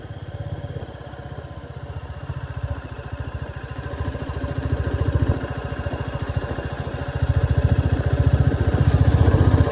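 A motorcycle engine runs steadily on a snowy mountain road to Parashar Lake in Himachal Pradesh, with a loud, close, even mechanical throb that swells and eases as the rider travels, no voices over it.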